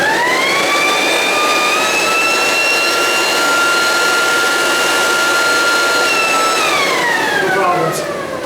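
A leaf blower runs on low, powered by a small 2-cycle gas generator, giving a loud, steady whining drone with tonal pitch that holds and then slides down as the motor winds off near the end.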